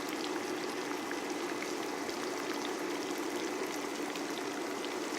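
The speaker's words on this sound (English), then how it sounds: "Now I am frying up the breast cutlets" Turkey breast cutlets fry in hot oil with an even, steady hiss of sizzling that holds without pause, with no one talking.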